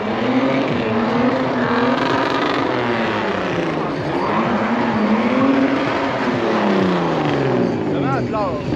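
Cars drive around at a car event, their engines droning loudly and continuously with rising and falling pitch sweeps as they pass, while people talk throughout.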